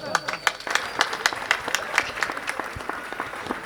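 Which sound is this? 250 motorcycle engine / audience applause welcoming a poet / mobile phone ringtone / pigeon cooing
audience applause welcoming a poet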